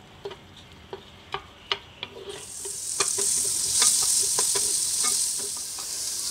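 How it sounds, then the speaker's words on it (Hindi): Chopped onions sauté in five tablespoons of hot oil for keema naan, with a few sharp stirring clicks at first, then a steady bright sizzle that swells and holds as the onions fry, close and loud with no talk. "इस प्याज में को ऑयल के अंदर सिर्फ हल्का सा सौते करना है।"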